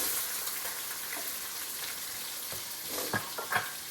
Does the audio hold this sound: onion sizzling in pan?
yes